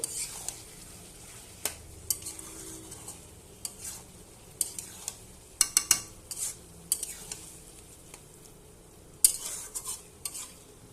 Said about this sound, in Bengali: এবার ভালোভাবে একটু আমি নেড়ে দেব